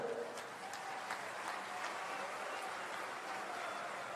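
A crowd claps at an outdoor political rally on road development, a steady distant wash of applause that runs unbroken, with a few bird calls faintly heard above it.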